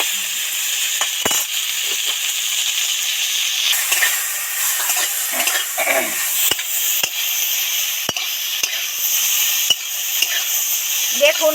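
Cauliflower florets fry in a little oil with salt, a steady close sizzle with scattered sharp clicks and scrapes of a utensil stirring against the pan, and no talking.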